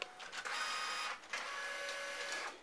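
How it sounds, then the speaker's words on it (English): An Epson Artisan 810 all-in-one inkjet printer begins a print job, giving a steady close mechanical whir and rattle of the feed and print head that runs continuously with a brief dip midway. "Actually, it's starting printing first."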